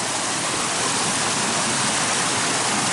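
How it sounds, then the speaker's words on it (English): Broadband rushing water of the River Dilar while wading across it, a steady close wash with no break and no voices. "we're back into the river."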